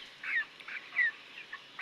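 Poultry-farm chickens give several short nasal squawks and honking calls in an uneven rhythm, fairly close and clear over quiet background hiss.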